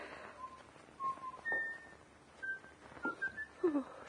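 Scattered whistled notes in a radio murder drama, short tonal bursts repeating at uneven intervals through a quiet, tense scene, some rising and falling, with a louder closing phrase.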